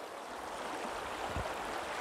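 Deep water of the Mixteco River, also called Río Grande, rushes in a steady, even broadband wash throughout, close and fairly loud, with no voices.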